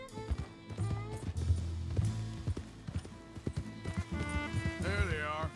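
A horse's hooves clip-clop in steady walking rhythm in the Western video game Red Dead Redemption 2. Voices talk over the hoofbeats, and a short whinny comes near the end.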